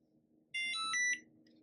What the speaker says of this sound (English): Cute, get a little beep there.